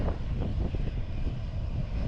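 An airplane engine roars as a steady, broad, loud rumble with a deep low end, continuing without pause and with no voices.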